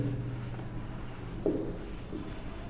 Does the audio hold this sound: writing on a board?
yes